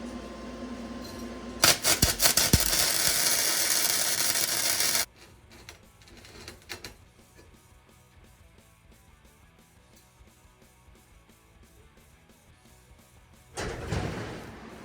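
Vulcan MigMax 215 MIG welder running a bead on 6-inch steel tubing: a loud, harsh crackling burst lasting about three seconds, then a quieter stretch of faint clicks and rustle before another short crackle near the end.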